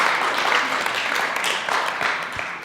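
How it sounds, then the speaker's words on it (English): A short burst of crowd applause for an audience member at a live show in the Mosman Art Gallery, dense clapping with a few louder individual claps near the end. "Come on, give her a round of applause."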